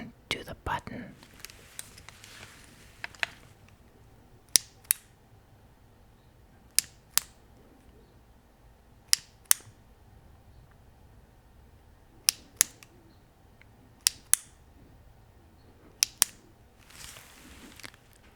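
The button of a Streamlight weapon light mounted on an AR15 is clicked repeatedly, crisp isolated clicks spaced a second or two apart, sometimes in quick pairs, against a quiet background with soft whispering.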